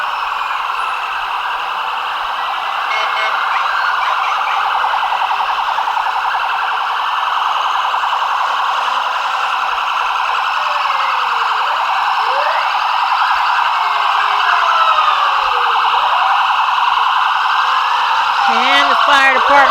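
Fire department vehicles sounding sirens at a Christmas parade in Harriman: loud, sustained wailing tones with overlapping rising and falling sweeps, one siren nearby while others echo along the street, growing louder toward the end.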